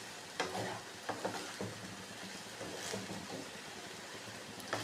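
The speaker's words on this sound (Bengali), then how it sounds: "চালটা ভালোভাবে ভাজা ভাজা করব।" Gobindobhog rice frying with cashews and raisins in a pan for Kanika pulao, a steady close sizzle broken by repeated scraping strokes of a spatula stirring the grains.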